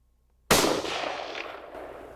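A hunter's rifle fires a single sharp, loud shot outdoors in Texas, the crack followed by a long rolling echo that fades slowly.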